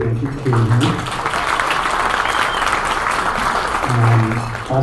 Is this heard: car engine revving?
no